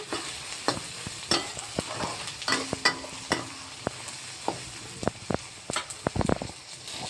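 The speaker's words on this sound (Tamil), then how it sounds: "கொஞ்சம் மஞ்சள் போட்டு நான் நல்லா கொஞ்சம் நேரம் ஒரு 2 செகண்டுக்கு வதக்கி விட்டுக்கிறேன்" Onions sauté with turmeric in a pan: a steady close sizzle punctuated by frequent sharp scrapes and knocks of a spatula stirring, growing busier toward the end.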